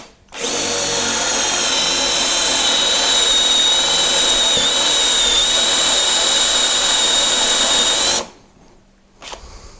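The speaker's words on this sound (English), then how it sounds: "put on a 1-inch Forstner bit, set it to the drilling mode" A Festool T18 cordless drill bores into wood with a 1-inch Forstner bit, whining steadily at high speed for about eight seconds, loud and close, then cuts off abruptly, leaving a brief quiet tail.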